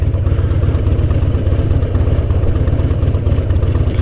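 A heavy motorcycle weighing roughly 700 to 800 pounds idles steadily, its engine thumping in a fast, even low rhythm, close and loud, with no voices over it.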